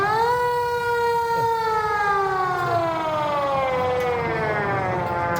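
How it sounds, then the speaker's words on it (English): A loud siren wails continuously with rich harmonic tones, its pitch slowly sliding downward as it sounds steadily throughout. "That's an ambulance talking to us."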